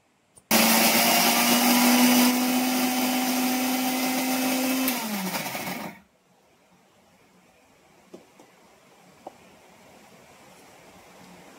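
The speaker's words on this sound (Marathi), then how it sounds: "आता मी लावते मिक्सरला" A mixer grinder whirs loudly and steadily for several seconds grinding idli batter, its pitch dropping as it winds down, followed by a few faint clicks in near silence.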